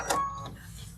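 A computerized embroidery sewing machine trims its thread with a brief mechanical whir and click, close and quiet, followed by a faint fading hum.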